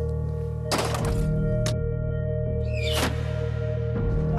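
A Roman scorpio, a bolt-throwing cheiroballistra, fires with sharp wooden thunks over a steady low mechanical hum, three distinct releases spaced about a second or more apart.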